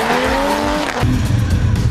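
Race cars sweep through a tight bend during a circuit race, one tire squeal rising in pitch for under a second before giving way to a loud, close engine roar.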